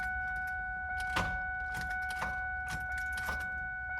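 A 1999–2004 Ford Mustang V6 cranks over on a replacement starter, a steady whine under a run of rough, evenly spaced bursts from the engine turning, close and fairly loud throughout with no talking.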